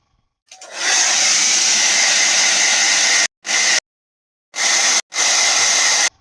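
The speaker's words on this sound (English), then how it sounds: "I'm about to run a hairdryer." A hairdryer switches on and blows with a steady loud whooshing hiss, then cuts off and on in several short bursts near the end, with no talking.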